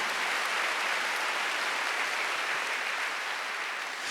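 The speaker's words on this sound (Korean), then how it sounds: "박수로 하세요" Steady applause from a church congregation during a Sunday worship service, a dense, continuous wash of clapping hands that holds at even loudness for about four seconds with no voices over it.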